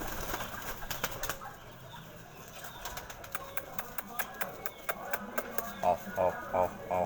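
Pigeons at a rooftop loft in South Asia flap and shuffle nearby, with sharp wing claps and rustling and a few soft coos toward the end.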